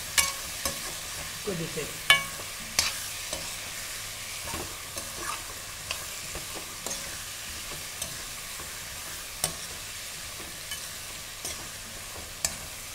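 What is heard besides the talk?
stirring eggplant pieces into frying dry fish curry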